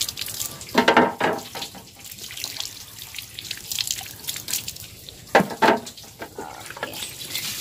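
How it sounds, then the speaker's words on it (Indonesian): Aquarium wood is washed under a running tap: a continuous stream of water splashes and trickles into a sink, with louder gushes and drips as the wood is turned, close up, with no talking. "Yang ini kayu dia saya cuci juga."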